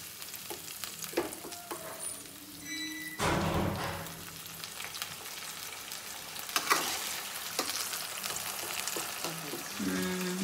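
Chopped tomato cooks in a hot pan, a steady sizzle and crackle with louder bursts as a utensil stirs and scrapes through it now and then.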